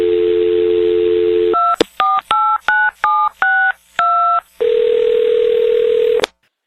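A landline dial tone hums steadily, then breaks into a rapid run of about ten crisp DTMF keypad beeps dialing a number before the tone returns, loud and close with no voices.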